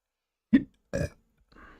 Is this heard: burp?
yes